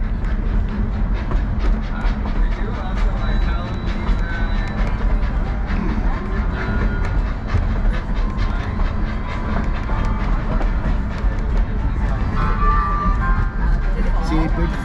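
A tourist train on the Georgetown Loop Railroad rolls steadily along its rails, giving a constant loud rumble with faint clicking from the wheels, heard from inside the car.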